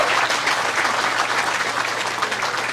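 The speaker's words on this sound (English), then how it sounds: "The Antonacci family. Give them a round of applause, please" A steady round of applause from the audience at a harness racing Hall of Fame induction ceremony honoring a family, dense and even clapping held for about three seconds with no talk over it.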